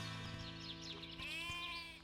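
A lamb bleats in a long, wavering cry, close and fairly loud, with a steady low hum underneath.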